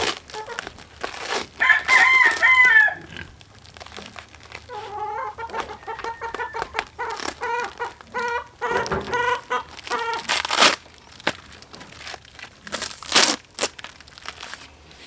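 Newly arrived broiler chickens cluck and crow in a busy, overlapping chorus up close, with crinkling packaging rustling intermittently alongside them.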